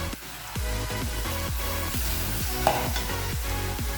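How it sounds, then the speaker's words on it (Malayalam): Vegetables being stirred and sautéed in a pan for a clam thoran, a steady sizzle with rhythmic spoon scrapes about twice a second, close and fairly quiet. "ഇതൊന്ന് നമുക്ക് നന്നായിട്ടൊന്ന് ഇളക്കി കൊടുക്കാം"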